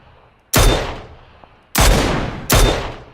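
Three loud, sharp gunshots with long decaying tails ring out in the video game PUBG, evenly spaced and close, with no talk over them.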